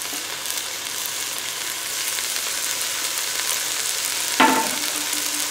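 Courgette, pepper and tomato for minestrone sizzle and fry steadily in a multicooker, a dense crackling hiss with a single sharp clink of a utensil near the end.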